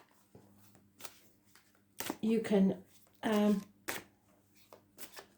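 Tarot cards are shuffled in crisp, riffling bursts with scattered taps between them, close by, while a voice speaks briefly.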